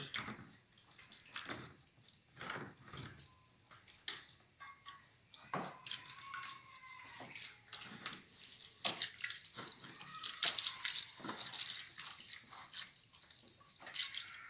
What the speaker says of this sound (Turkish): Bunu şimdi yıkamaya götürüyoruz. Bol suyla yıkamamız gerekiyor.